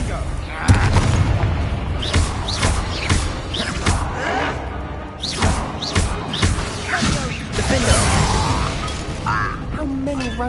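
An Expelliarmus spell cast in Hogwarts Legacy amid a fight with Ranrock's loyalists, dense and loud with booming magical blasts, thuds and clattering crashes over a steady din, with a voice heard through the chaos.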